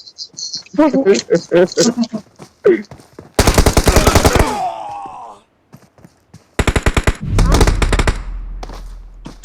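Bursts of rapid automatic gunfire in PUBG Mobile, loud and close, come in two long volleys separated by a pause, with excited talk before the shooting.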